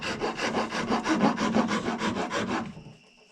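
A 4-in-1 rasp files the edge of a horn for a simple powder horn, giving about a dozen rhythmic, close rasping strokes that stop near the end, with no voices.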